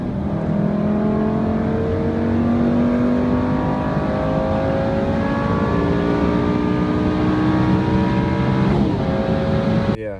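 Lamborghini with E-gear transmission accelerating hard on a highway, engine note climbing steadily through the gears in a loud, continuous, close roar with rising pitch and faint wind noise.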